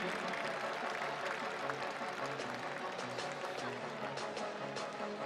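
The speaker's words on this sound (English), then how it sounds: "give a big round of applause for our demo game" Audience applause fills a basketball arena for a demo game before a women's league playoff final, a steady wash of clapping mixed with crowd noise, with faint voices underneath.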